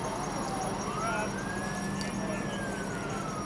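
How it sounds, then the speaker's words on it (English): A distant fire engine siren rises and falls faintly beneath steady broadband crowd and street noise in Toronto at night, drifting slowly across a few seconds. "Oh, here comes another fire engine."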